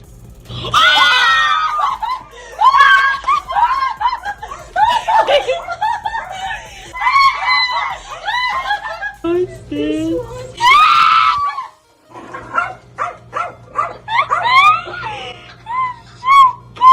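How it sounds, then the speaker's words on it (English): Girls shriek, squeal and laugh in excited bursts while opening BTS photo card packages, with loud high screams rising and falling amid giggles and chatter. "This is what's going to elicit the shrieks and the screams."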